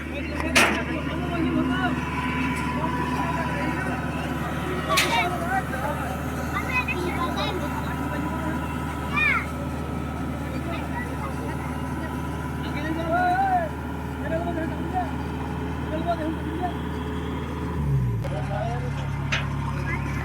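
A Kubota DC-68G combine harvester engine drones steadily in green farmland, a low continuous rumble that drops away near the end, while people talk over it throughout.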